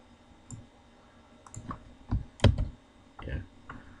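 Keys clicking in short irregular bursts as a chart title is typed on a computer keyboard, close and fairly quiet with gaps between strokes.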